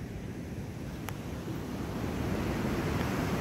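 Surf rolling onto the beach at Playa del Ingles, a steady broad wash of waves with some wind noise, swelling slightly louder toward the end, no voices.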